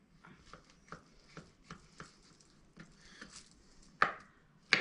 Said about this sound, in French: Et après, je fais des petites rondelles.